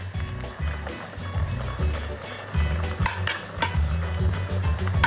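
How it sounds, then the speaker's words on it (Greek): Ingredients stirred and frying in a pan, with steady sizzling and repeated scraping strokes of a utensil in a regular rhythm, loud and close, with no talking. "Ανακατεύουμε όλα τα υλικά, προσέχουμε να είναι όλα στρωμένα στον πάτο"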